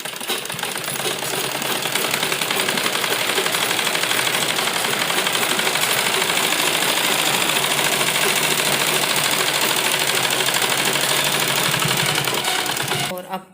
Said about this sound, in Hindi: यहीं से घुमाते हुए डबल सिलाई हम इसके ऊपर करेंगे।